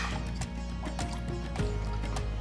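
Black kavuni rice and lentils being stirred into water in a cooking pot. The sound is a soft, faint liquid sloshing with small drips and knocks over a steady low hum.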